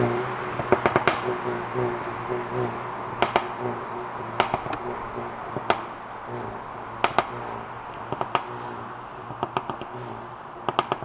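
Mercedes A35 AMG exhaust popping and crackling after a sporty road drive, with sharp irregular cracks in scattered bursts over a steady engine drone, fairly close and loud.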